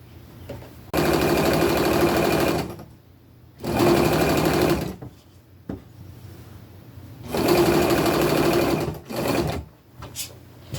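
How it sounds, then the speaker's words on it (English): A sewing machine stitching fabric onto a t-shirt runs in three steady bursts of whirring, rapid needle clatter, separated by quiet pauses and a few short taps, close and loud. "and just sew it down"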